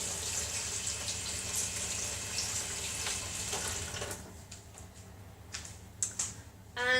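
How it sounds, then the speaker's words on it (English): A kitchen tap runs steadily as hands are washed under it. The water hisses loudly at first, then drops away into scattered splashes, drips and clinks near the end. "Just going to wash my hands."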